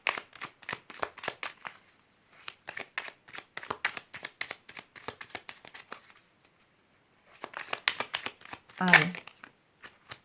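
Tarot cards are shuffled in quick riffling bursts, close and crisp, pausing briefly between rounds, while someone speaks a short word.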